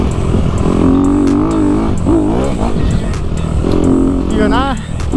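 Honda CRF 250 RX dirt bike engine running loud and close, its tone rising and falling with revs, while someone talks over it throughout.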